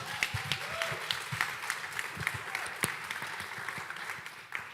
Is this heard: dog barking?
no